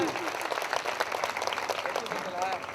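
A church congregation claps loudly for God after a call of hallelujah, dense uneven clapping throughout with voices calling out over it.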